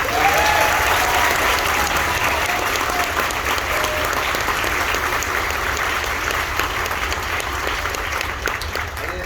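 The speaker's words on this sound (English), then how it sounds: "a round of applause for Pioneer Dance" An audience applauds a college dance team at a marching band concert, sustained loud clapping from a large crowd with no voices over it.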